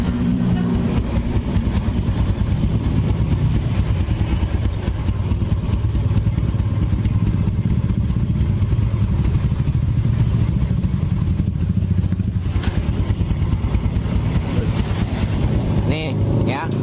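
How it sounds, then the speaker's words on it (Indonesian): Honda Vega R motorcycle engine, freshly fitted with new bore and cylinder head, idling smoothly and steadily at close range for the whole stretch, with people talking over it. "Motor sudah tidak ngebul. Motor lembut mesinnya."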